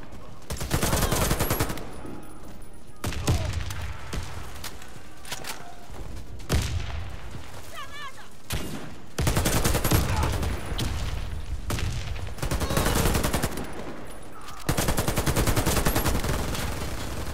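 Sustained automatic fire from an AK-103 rifle in the Warface shooter game, dense rattling bursts repeating across the span with short gaps, loud and close, with talk heard between bursts.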